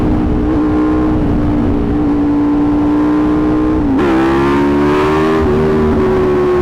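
A 2020 Aprilia RSV4 1100 Factory motorcycle engine holds a loud, steady droning rev close by, then surges to higher revs and stays up during wheelie practice.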